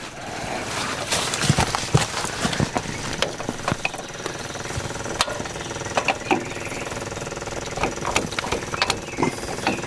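An old military surplus backhoe, abandoned for thirty years, gets its engine started, producing a rough knocking, clattering run with irregular sharp ticks over a continuous mechanical drone.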